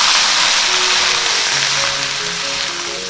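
Cooking wine poured into a hot pan of stir-fried lamb, loud close sizzling and hissing steam rising steadily and continuing unbroken throughout.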